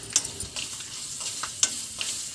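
Curry leaves sizzle in hot oil for a tempering for guava pickle, with soft crackling pops and light stirring scrapes, faint and close.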